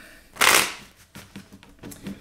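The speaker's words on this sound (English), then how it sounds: "let's get four more shuffles" Tarot cards shuffled by hand at close range, one loud riffle burst followed by several lighter, softer shuffling flicks.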